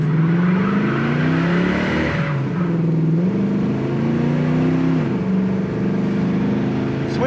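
A 1969 Chevrolet Camaro pulling away hard and accelerating through the gears, its engine note climbing toward about 4,000 RPM, dropping at each shift and climbing again, loud and close with no talk.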